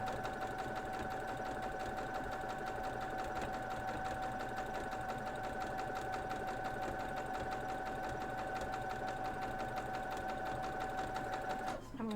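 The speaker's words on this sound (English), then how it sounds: "we're going to sew it" A sewing machine stitches a Grecian Square quilt block in a steady, fast mechanical run with a constant whirring hum and rapid needle clatter for about twelve seconds, then stops near the end.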